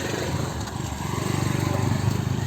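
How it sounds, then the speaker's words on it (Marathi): Motorbikes ride past a crowded waterfall spot, their engines making a steady, moderately loud drone with a faint pulsing throb that grows slightly stronger toward the end. "बघ बाईक वगैरे घेऊन जात आहेत"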